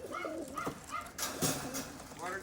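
A tippler pigeon gives soft, repeated low coos close by while someone talks over it, with a brief noisy rustle in the middle.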